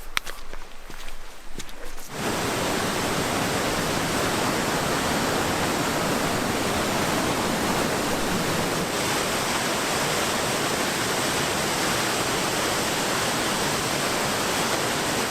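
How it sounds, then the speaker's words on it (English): Two-tier waterfall on the Ohanapakash River beneath a trail bridge, a loud, constant rushing roar of falling water that surges in after a quieter opening and holds steady throughout. "we have this beautiful waterfall here the bridge goes over the top of"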